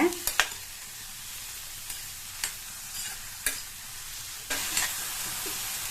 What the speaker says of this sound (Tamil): இதை இதுல சேர்த்துட்டு நல்லா நம்ம சேர்த்த எண்ணெயிலேயே இதை 1 நிமிஷத்துக்கு ஹை ஃபிளேம்ல வச்சு வதக்கிக்கங்க